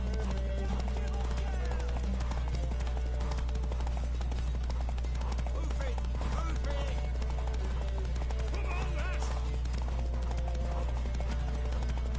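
Rapid hoofbeats of a galloping horse in The Witcher 3 thud over a constant low drone, with game effects and voices layered on top.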